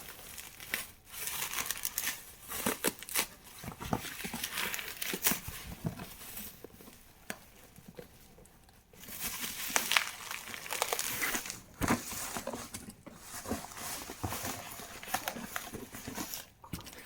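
Plastic cover packaging wrapped around a 9-in-1 vegetable cutter being pulled off and unwrapped, with rapid irregular crinkling and rustling bursts and brief pauses, close and fairly loud throughout.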